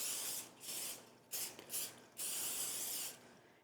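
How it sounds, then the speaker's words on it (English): Nonstick cooking spray hisses onto a baking pan for brownies in a home kitchen, in four bursts: a long spray, two short quick ones, then another long spray, all close and fairly loud. "I'm gonna spray my pan with some nonstick."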